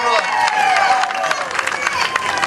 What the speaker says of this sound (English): Congratulations, but everybody round of applause.